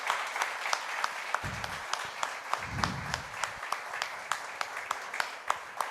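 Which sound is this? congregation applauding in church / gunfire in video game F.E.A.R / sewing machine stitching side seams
congregation applauding in church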